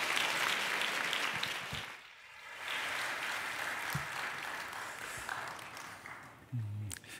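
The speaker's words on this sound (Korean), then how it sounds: "큰 박수로 우리 환영하겠습니다." A church congregation at an early-morning prayer service in Los Angeles applauding to welcome a preacher: sustained dense clapping from a crowd, fairly close, with a short dip midway and a few thumps near the end.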